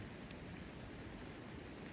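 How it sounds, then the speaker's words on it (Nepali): Light drizzling rain falls outdoors in a hillside village, a steady soft hiss of fine drops continuing without pause throughout, with no voices. "यहाँ भर्खर पानी सिमसिम परिरह होइन"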